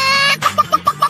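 A cartoon character clucks like a chicken in a series of quick, loud, evenly spaced clucks after a brief sustained tone, a voice imitating a hen.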